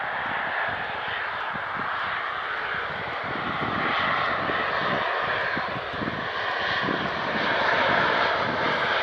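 A Ryanair airliner's jet engines at Manchester Airport, a steady broad roar with a slowly swelling rumble, heard from a distance without speech.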